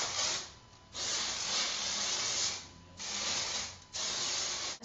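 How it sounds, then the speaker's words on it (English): Oscar Blandi Dry Heat Style Protection Spray misted over hair in four long, steady hissing bursts with short breaks between them, close and fairly loud, no talking. "I'm gonna spray that all over my hair."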